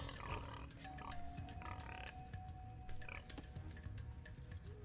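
Pigs oinking in Age of Empires II: a few short grunts over quiet game ambience with other faint game sounds.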